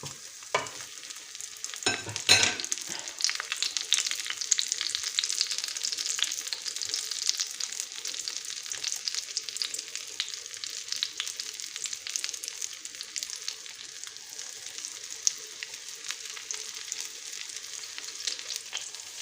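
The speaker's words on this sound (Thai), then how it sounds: "นี่ถ้าเขาใส่ไฟอ่อนๆทอดนะคะ เห็ดเท่ามันจะออกมา ดูดี" Parasol mushrooms dipped in batter fry in oil, a steady close sizzle and crackle with a few louder clatters near the start, running continuously without voices.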